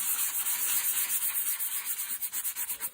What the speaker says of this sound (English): Obviously using a flat former behind the sandpaper means it doesn't bulge out or change profiles.